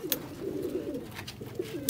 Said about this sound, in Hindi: लो जी दोस्तों यह कबूतर ने